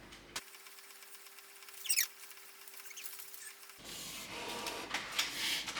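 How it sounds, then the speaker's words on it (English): A printer printing on an edible sugar sheet for cake decorating, a steady mechanical whir and hum with a brief feed clatter, then busier rattling paper movement toward the end, no speech. "right now we're going to be printing on sugar sheet"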